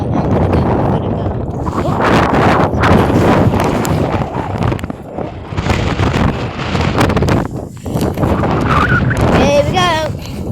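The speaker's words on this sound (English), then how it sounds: "I've got like 60-mile-an-hour wind" Strong wind of around 60 miles an hour buffeting the microphone on the coast at Whitby, a loud, continuous roar with gusty surges and no break.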